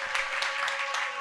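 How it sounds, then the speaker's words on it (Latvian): An audience at a discussion festival applauding, dense steady clapping throughout with a few sharper claps standing out, close and fairly loud. "aplausi!"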